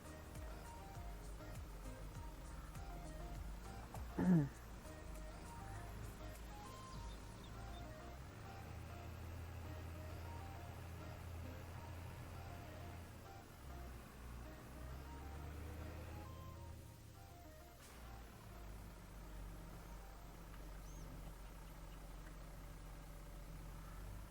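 A tractor engine in Farming Simulator 22 runs steadily for the whole stretch with a low, even drone. Pitch shifts and swells mark changes in revs. A brief sharp knock comes early on.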